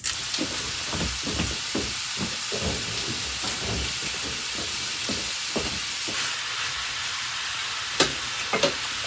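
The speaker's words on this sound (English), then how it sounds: "So we're going to start browning up our sausage." Italian sausage browns in a pan, a continuous hissing sizzle with frequent scraping and clacking from a utensil breaking up the meat, a couple of sharper knocks near the end, no voices.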